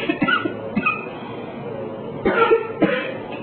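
A few short, sharp coughs close by, bursting out in separate bouts with quiet gaps between them.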